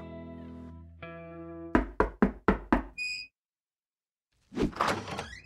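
A sharp series of about five quick knocks on a door rings out close and loud, framed by a sustained tone before and a short electronic chime after, then a rustling thump.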